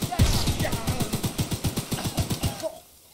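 Rapid automatic gunfire in a zombie video game, a steady burst of about a dozen close, punchy shots over nearly three seconds that stops abruptly and leaves near silence.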